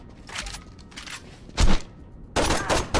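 Gunfire in the video game Saints Row 2, with several loud bursts of shots spaced across the moment, including a sharp single blast near the middle and a longer volley toward the end.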